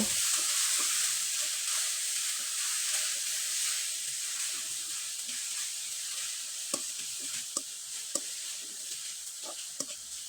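Grated coconut and jaggery filling is stirred in a hot pan, a soft hissing sizzle with gentle scraping, then a run of sharp spatula taps toward the end, and no voice is heard.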